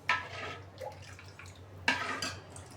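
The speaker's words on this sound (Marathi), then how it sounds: "तर बघा मी अजून पाणी घालत आहे" Water is splashed into a pot of drumstick soup in two short bursts, close and fairly quiet, with a steady low hum beneath.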